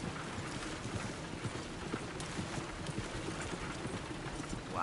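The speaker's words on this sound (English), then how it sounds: "Look where you want to go and the horse will follow." Horse hooves clip-clopping along a road in a Red Dead video game: a steady, moderately loud stream of hoof beats under a busy background of rumble and noise.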